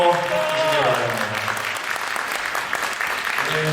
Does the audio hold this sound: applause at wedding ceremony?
yes